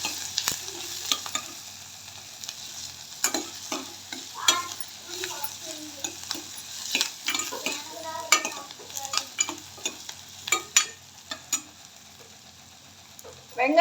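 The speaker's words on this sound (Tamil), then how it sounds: "வெங்காயம் வதங்கட்டும்." Onions sautéing in oil in a pan, with frequent clattering stirs of a spoon against metal over a soft sizzle, close and uneven in rhythm.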